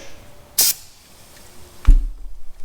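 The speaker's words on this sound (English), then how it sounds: "if I spray some here on the bench" Two short hissing bursts from an undercoating aerosol can sprayed onto a bench, about a second apart, the second followed by a low thud.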